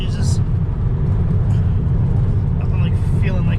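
A big-turbo Saab 9-3 with coilovers and a B234R engine rumbles steadily from inside the cabin as it crosses the Delaware Memorial Bridge, with road roar and a few faint knocks. Someone talks over it.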